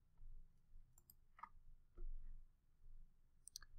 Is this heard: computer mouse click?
yes